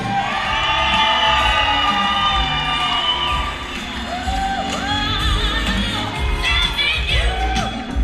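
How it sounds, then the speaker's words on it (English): A wedding reception crowd cheers, whoops and shouts loudly and steadily for the groom's parents, a dense wall of voices with higher-pitched yells rising over it throughout. "how about a big round of applause right now for the parents of the groom"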